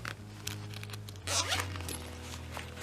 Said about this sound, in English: You just unzip it,